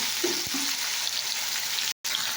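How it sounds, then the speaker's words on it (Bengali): Potatoes frying in a pan of oil while being stirred, a continuous close sizzle with a faint scrape or knock early on and a brief dropout near the end. "আলুটা একটু নেড়ে নিচ্ছি।"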